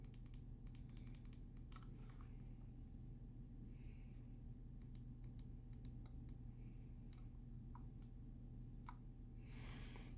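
Crisp, sharp clicks from the buttons of a Logitech G Pro X Superlight mouse, close and fairly faint, arriving in quick irregular bursts and single taps over a low steady hum.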